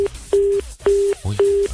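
Telephone busy signal sounding after a call drops, a steady mid-pitched tone pulsing on and off four times in an even rhythm, with a brief low murmur between two of the beeps.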